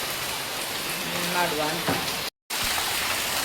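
Heavy rain falling outdoors near a river in a town, a dense steady hiss of downpour with someone speaking briefly over it and a short dropout near the end.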